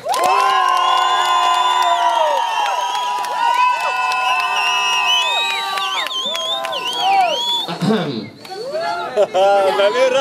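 An audience cheers and shouts continuously and loudly, with overlapping voices whooping and yelling, a brief dip, then a fresh surge.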